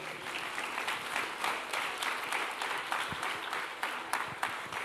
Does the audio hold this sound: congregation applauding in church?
yes